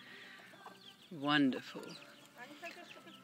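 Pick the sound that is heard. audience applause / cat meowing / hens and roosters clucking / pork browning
hens and roosters clucking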